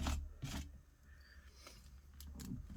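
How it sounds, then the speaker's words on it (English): A tool scrapes paint off a journal tag background in short rasping strokes, close and fairly quiet, with a few stronger scrapes at the start and near the end. "I'm just making sure that it's scraped off, that there's not lumps left, thicker areas."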